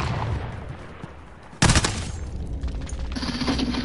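A sniper rifle fires in a Call of Duty match: one sharp, loud shot cracks out partway through over a low game background, followed by quieter rattling gunfire and effects.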